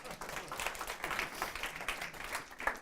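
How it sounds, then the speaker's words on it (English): A small audience at a women-in-tech sales hiring event applauds a Top Hat employee from Toronto, the clapping soft and moderately distant, steady for a few seconds. "Round of applause for Yespa"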